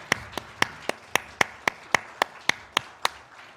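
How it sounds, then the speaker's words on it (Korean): A church congregation claps in unison during a Sunday worship service, about a dozen sharp, evenly spaced claps in a steady rhythm, clear and alone with no talking. "하나님께 영광의 박수 올려드리겠습니다."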